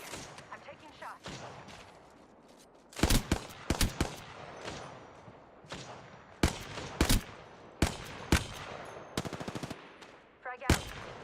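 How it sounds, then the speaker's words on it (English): Gunfire in Apex Legends, with rapid automatic bursts and single sharp shots scattered across the stretch, some loud and close, others fainter, over a steady game background without clear speech. "I'm taking shots."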